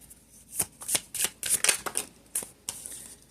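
Oracle cards being riffled and shuffled by hand, a quick series of crisp, close flicking bursts over a few seconds, with no voice.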